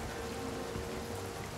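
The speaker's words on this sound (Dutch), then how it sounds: "Het regent zelfs, Rob." Rain falls during a storm on a rough, ghostly sea in a video game, making a soft, continuous hiss of drops that stays faint and even from start to end.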